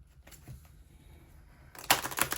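Tarot cards riffle and clatter in quick, crisp bursts, quiet at first and then a louder flurry of shuffling near the end, close by in a still room.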